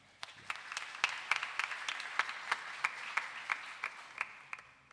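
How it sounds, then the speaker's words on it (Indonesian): Congregation applause at a Batak-language HKBP church service in Yogyakarta, cheering the Sunday school children on New Year's Eve; steady mid-level clapping with distinct sharp claps punctuating a dense wash, no talking. "Tepuk tangan untuk sekolah minggu."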